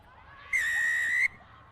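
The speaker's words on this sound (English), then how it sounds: "It's a hard blow on the whistle." A referee's whistle blows once at an under-18 girls' rugby match, a single sharp shrill blast lasting under a second, loud above faint crowd noise.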